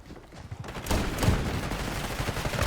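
Gunfire in a Warzone match, including shotgun blasts, starts after a quieter moment and becomes a dense run of shots and bursts, with players' voices speaking over the shooting.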